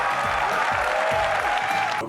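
Keynote audience erupting in cheers and applause as Apple announces dark mode for iOS, a dense loud crowd burst with whoops over a short stretch.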